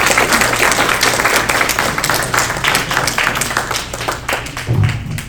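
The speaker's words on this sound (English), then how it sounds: "Can I have a big round of applause for Professor David Graizbord?" Warm applause from a congregation audience greeting a professor at a workshop, dense steady clapping close and loud throughout, slowly thinning toward the end.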